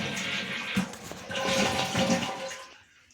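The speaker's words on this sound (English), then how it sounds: "And we'll flush the toilet." A toilet flushes up close, a rushing swirl of water that builds, holds steady, then drains away and fades in a quiet bathroom.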